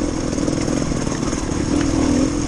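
Trials motorcycles riding up a green lane in Wales, a steady, moderately loud engine drone with a slight rise in pitch toward the end, no voices.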